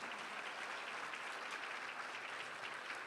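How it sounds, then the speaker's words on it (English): Faint but steady audience applause in a school hall during a 5th grade arts celebration, an even wash of many hands clapping, heard from a distance without talk. "Let's give him a round of applause for showing his support."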